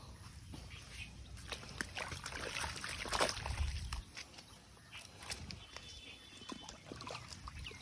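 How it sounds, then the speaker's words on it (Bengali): Feet are washed with water outdoors in a village: soft splashes, sloshing and trickling close by, with scuffing steps, a steady outdoor background and no clear talk. "দেখো, এখানে পাটা ধুতে লাগবে একটু"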